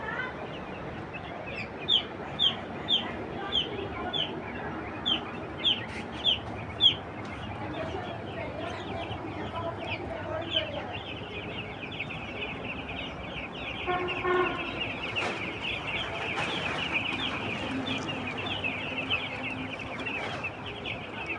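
Hens and seven-day-old chicks cluck and chirp continuously, with a run of sharp, evenly spaced calls early on and busier overlapping clucking later, moderately close.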